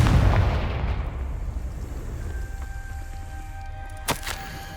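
A Confringo blasting spell in Hogwarts Legacy goes off as one loud explosive boom that rumbles and decays over several seconds, followed by a quieter ringing tone and a short crackling burst near the end.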